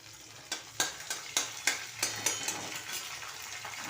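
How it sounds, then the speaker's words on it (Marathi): Onion and curry leaves fry in hot oil for a chana bhaji, a close, steady sizzle with a rhythmic series of stirring scrapes about three per second, and no talk. "कांदा ब्राऊन होईपर्यंत हे घ्यायला तर त्याच्यात कढीपत्ता टाकून घेते"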